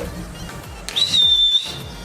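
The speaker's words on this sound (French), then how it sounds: "Donc un tuto comment siffler" A short, high human whistle held for about half a second, steady in pitch, heard close over faint background hum.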